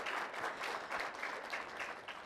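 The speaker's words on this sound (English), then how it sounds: "Round of applause for Mr. Cuellar." An audience at a school-district college signing ceremony gives a round of applause for a board member, a soft, steady wash of clapping heard from a distance.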